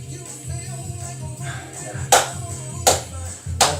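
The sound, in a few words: people clapping along to a song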